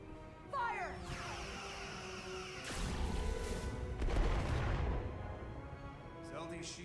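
Starship weapons firing in the Star Trek: Resurgence game, heavy crashing blasts swelling into rumbling booms over a roughly four-second stretch, with a sharper blast near the start and a voice speaking over the battle.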